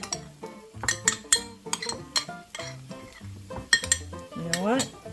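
A spoon stirs honey mustard slaw in a bowl, giving a string of quick clinks and scrapes in an irregular rhythm, close and fairly loud.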